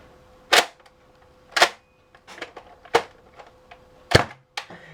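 A Nerf N-Strike Elite Delta Trooper blaster fires darts one at a time, giving sharp snapping shots at irregular intervals with softer clicks of reloading between them.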